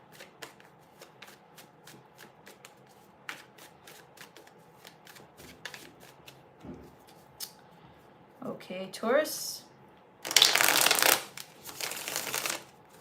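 Tarot cards are shuffled loudly in bursts near the end, with rapid riffling after quieter handling and scattered taps, while a voice speaks briefly at the start.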